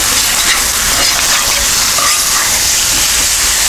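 A cheesesteak fries on a Blackstone griddle with a loud, steady, close sizzle and hiss that holds unbroken throughout, with no voices.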